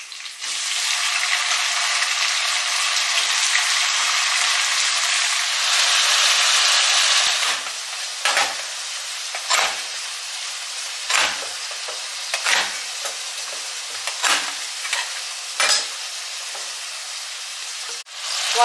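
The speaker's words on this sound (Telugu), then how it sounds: "ఇప్పుడు వంకాయలు వేసుకుందాం." Eggplant pieces drop into a pan of frying onions for a Telugu vankaya curry, giving a loud, steady sizzle that later thins out under a series of sharp spatula scrapes and taps as the mixture is stirred.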